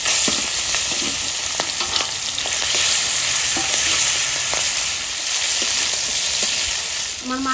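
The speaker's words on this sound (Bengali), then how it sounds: "এবার চিংড়ি মাছটা ভেজে নেব।" Prawns frying in hot oil in a kadai give a steady, close sizzle with scattered crackles and pops throughout, no voices.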